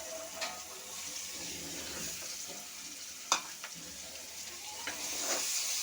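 Chopped onion fries in a hot pan with bay leaf, cardamom and cinnamon, giving a steady close sizzle with a few scraping stirs and light clinks.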